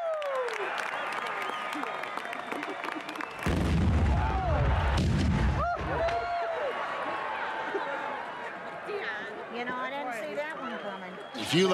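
Fireworks exploding at the PGI fireworks convention: deep booming blasts, a loud cluster in the middle and lighter crackles and whistles around it, with a crowd reacting and people talking throughout.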